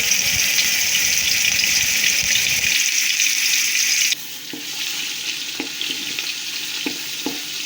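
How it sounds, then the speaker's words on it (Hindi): Garlic and ginger paste fries in hot oil in a cooking pot, a loud continuous sizzling hiss that eases to a softer crackle midway, with scattered clicks of stirring against the pot. "अब हम एक पतीली में ऑयल डालेंगे और इस ऑयल में हम लहसुन और अदरक का पेस्ट भी शामिल करेंगे।"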